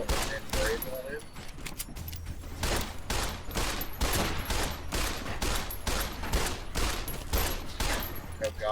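Rapid, continuous gunfire from the video game Fallout: New Vegas during a fight with Powder Gangers: dense, loud volleys of shots crackling almost without pause for the whole stretch.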